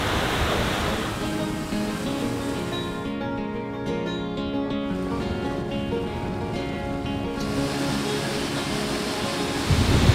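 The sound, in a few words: waterfalls on the Isle of Skye in winter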